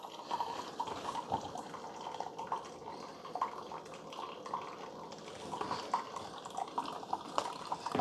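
Water trickling and dripping inside a disassembled Keurig K-Supreme coffee maker, a quiet, steady wet flow with small irregular drips and gurgles close by, no talking.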